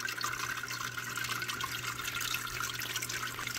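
Water runs steadily through the irrigation system of an Aerogarden hydroponic grow deck, trickling and splashing into each pod hole as a constant close, hissing babble with no voices.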